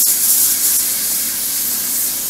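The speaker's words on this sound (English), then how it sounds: "So again, so you just start spraying." A steady, close hiss of aerosol spray paint misting onto a scale model Sd.Kfz.251 half-track in German WW2 camouflage, continuous and even for a couple of seconds.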